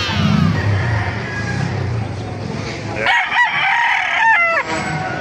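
Rooster crowing at an outdoor chicken market in Baliuag, Bulacan, with two clear, loud crows in the second half, following crowd chatter and market noise, with people talking nearby.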